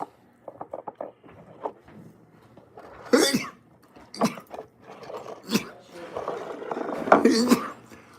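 A few sharp sneezes and coughs burst out amid scattered soft noises and murmuring voices, fairly close and moderately loud.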